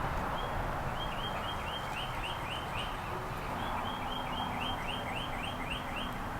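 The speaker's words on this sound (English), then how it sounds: "that is most definitely a cardinal." A cardinal outdoors repeats quick, bright chirps in rapid runs, clear but a little distant over a steady background hiss.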